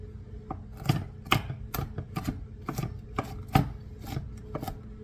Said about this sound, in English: As you can see, I'm doing a lot of chopping.